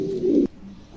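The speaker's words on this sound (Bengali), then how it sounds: "খুবই চমৎকার একজোড়া কবুতর" A pair of new adult Mundi pigeons, currently molting, gives one loud, close, throaty coo that breaks off abruptly, followed by a softer low murmur.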